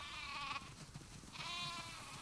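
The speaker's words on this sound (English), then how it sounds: "That's a lot of sheep." Sheep in a barn in The Last of Us Part II video game bleat twice in quick succession, wavering close-up calls over faint background noise.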